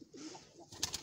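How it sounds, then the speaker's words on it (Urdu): Colorful pigeons in a rooftop loft, some perched on bricks, give soft low coos close by, followed by a couple of sharp brighter chirps near the end. "اور ساتھ میں یہ کبوتر ہیں رنگ والے سارے کلر والے"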